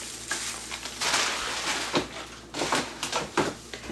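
Carne asada sears in a hot pan with a steady, close sizzle and some scraping and stirring, rising in brief louder bursts throughout.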